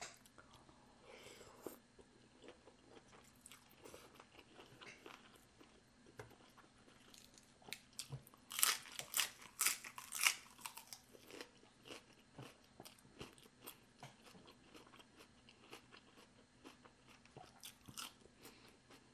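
Close chewing of a big bite of spicy rice noodle salad, soft crunches and wet mastication that swell into a louder crunchy burst midway before settling back to quieter chewing.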